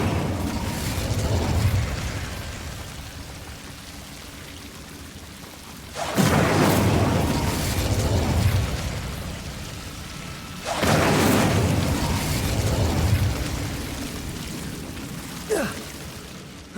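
Fire spell bursts in Hogwarts Legacy, two loud roaring whooshes a few seconds apart, each swelling and trailing off over a low ambient rumble, with a faint pop near the end.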